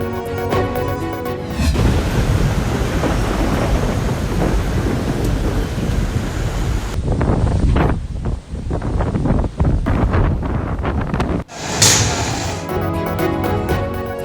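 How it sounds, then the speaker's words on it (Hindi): Thunder rumbles through a heavy rainstorm in southern Punjab, rolling booms and sharp cracks over a dense, continuous hiss of rain and gusting wind, loud and close throughout with no voices. "वस्ती और जनूबी पंजाब के मुख्तलिफ शहरों में भी बादलों की घन गरज और बारिश"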